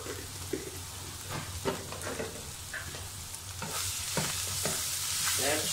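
Sugar is stirred into sambal frying in a pan for nasi lemak, giving a continuous close-up sizzle broken by scraping strokes of the spoon, with the frying growing louder toward the end.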